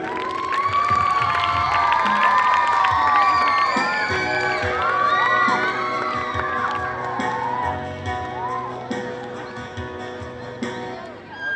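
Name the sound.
audience applause and cheering at school performance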